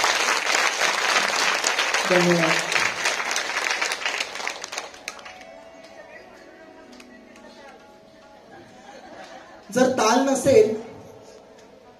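An audience at a school memorial event claps loudly for about five seconds, then the applause fades into a quieter stretch with a faint tone, and a speaker briefly says a few words near the end.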